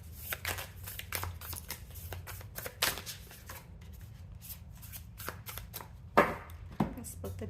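A tarot card deck is split and handled up close, giving crisp papery riffles, slides and taps in uneven bursts, with a quiet voice underneath now and then.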